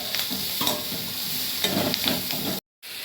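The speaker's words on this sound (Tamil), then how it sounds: "வெங்காயம் சேர்த்துக்கோங்க இந்த பதம் வதங்கினோடனே தக்காளி போட்டுருங்க" Onions sautéing in a pan while being stirred, a steady close sizzle with scraping strokes of a spoon, cut by a brief silence near the end.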